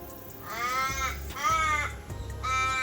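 Western Australian ravens call close by with three long, wailing, descending caws in succession, loud and clear over a faint background of other birds.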